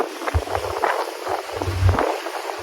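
A boat engine running on the Nile River, a low steady drone close by with wind buffeting the microphone; no talk is heard.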